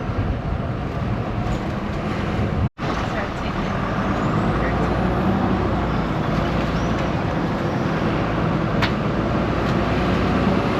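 A city tour bus in Palermo rumbles along through the city, giving a continuous loud engine and road noise with a brief dropout partway through and no clear talking.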